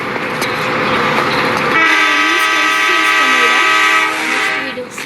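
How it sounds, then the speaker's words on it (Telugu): A train passes close by with a loud rumbling roar, then a long sustained horn sounds out before the noise eases. "మనకు అప్పుడప్పుడు ట్రైన్ సౌండ్ వినిపిస్తుంది కదా, ట్రైన్ నాయిస్ లాగా. అది ఇదే ట్రైన్."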